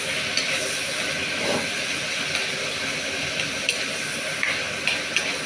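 Chicken pieces sizzling steadily in a hot pan while cooking for adobong sitaw with egg, a continuous loud hiss with occasional small pops and crackles.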